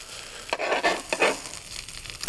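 Seitan fries with onions and peppers in a hot pan or griddle, a close bright sizzle that surges in several bursts as the vegetables are tossed and stirred.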